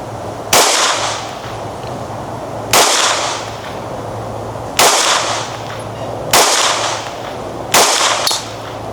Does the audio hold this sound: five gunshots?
yes